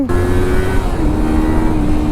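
A Kawasaki Versys X 300 adventure motorcycle cruises in sixth gear, its engine holding a steady, even drone with a faint tonal whine running throughout, loud and continuous with no voices over it.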